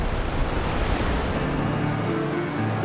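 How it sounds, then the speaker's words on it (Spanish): Huge ocean waves at Nazaré, Portugal, keep up a constant, dense roar of surf and rushing water, loud and unbroken throughout, with a wind-like hiss and no voices. "las olas vienen en todos los tamaños, desde una pequeña a estos monstruos de 30 metros encontrados en Nazaré"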